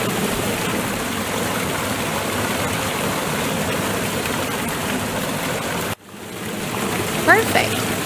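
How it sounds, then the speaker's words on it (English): Steady rushing water of a waterfall, a dense continuous roar that cuts off abruptly near the end, followed by a quieter wash of water and a brief chirp. "Waterfall."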